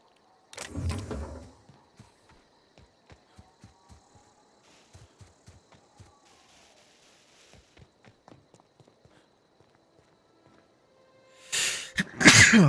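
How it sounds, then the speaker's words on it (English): A sneeze bursts out loud and close at the start while playing The Outer Worlds, followed by a trail of soft, evenly spaced footstep-like taps, with another loud burst of sound near the end. "Oh, sorry, I knew that sneeze was coming for ages."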